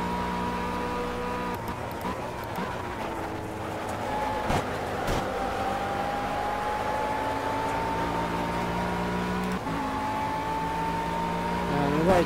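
A McLaren 12C GT3 race car engine in Project CARS at Monza holds a steady high drone, with a pitch that slowly rises and a few gear-change dips, while someone talks faintly underneath.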